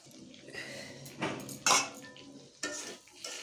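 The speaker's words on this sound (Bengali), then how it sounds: "ভেজে রাখা আলুগুলো দিয়ে ভালো করে ভেজে নেব মশলার সাথে।" Metal utensil scraping and clinking in a pan while fried potatoes are tossed with spices for a fish curry, a few distinct clatters over a faint background hiss.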